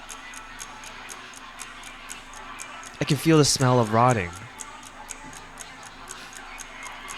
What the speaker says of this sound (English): I can hear a clock on my wall.